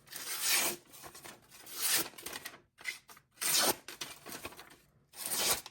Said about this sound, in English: it's gonna cut paper